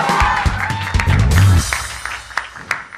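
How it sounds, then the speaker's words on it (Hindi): A church congregation applauding loudly in thanks to God, a close and full burst of clapping that thins into scattered claps. "जोरदार ताली बजाकर प्रभु धन्यवाद देंगे"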